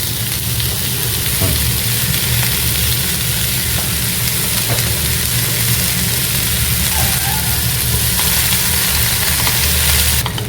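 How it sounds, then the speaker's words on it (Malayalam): Mixed vegetables sautéing in a pan for a chicken quesadilla give off a steady, loud sizzle and frying hiss that runs unbroken through the whole stretch, close up, with no talking over it. "എന്നിട്ട് എല്ലാം കൂടെ ഒരു 4 to 5 മിനിറ്റ്സ് വഴന്നാൽ മതി"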